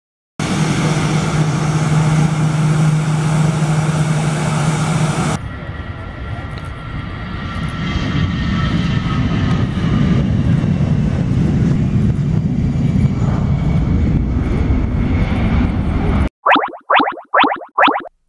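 A passing airplane engine drones loudly in a children's quiz about colours and vehicles, with a steady roar and faint tonal whine, ending in a few short bright chirping tones.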